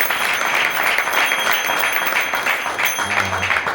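Applause for a sadhu at a devotional folk gathering in Brisbane, a steady wash of many hands clapping throughout, loud and dense without pause.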